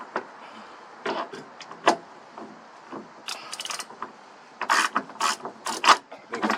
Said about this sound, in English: Pair of pliers while we try to loosen, get that stud off.